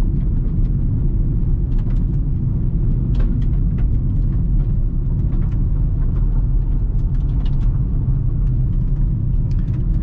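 A car rolling along a gravel country road, a steady, loud low rumble of tyres and engine throughout, with faint crunching and ticking layered over it and no talking.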